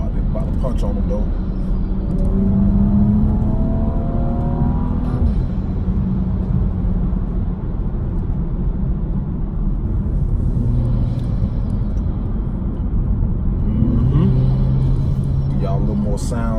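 A BMW 435 fitted with a CTS Turbo intake growls at a steady, loud, deep idle, rising into a couple of revs that climb and fall, with background voices at times.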